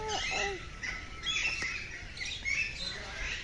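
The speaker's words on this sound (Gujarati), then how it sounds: "જુદા જુદા પ્રકારના પોપટ છે અહીંયા. બહુ અવાજ કરે છે." Parrots in a zoo aviary let out a string of sharp chirps and squawks, several birds calling irregularly at moderate distance over a faint background hum.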